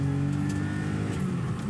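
A 1984 European-spec Porsche 911 Carrera with its 3.2 flat-six engine, driven on a track, gives a steady, close droning engine note held at fairly constant revs for a moment.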